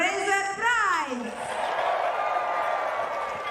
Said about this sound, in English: Oh, pretty big cheer for her.